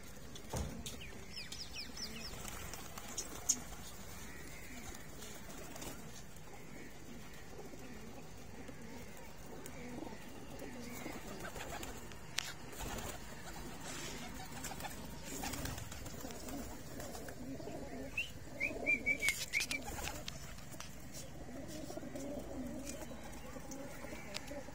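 Racer pigeons on a rooftop loft coo softly, with scattered wing flutters and shuffling in the background, faint and continuous throughout.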